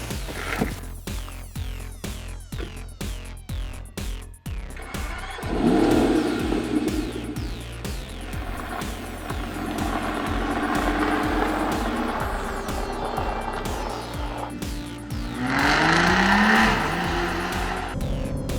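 A 2015 Aston Martin Rapide S four-door sports car drives hard, its engine revving through quick upshifts, then pulling loud and close with rising and falling engine notes and whining tire noise.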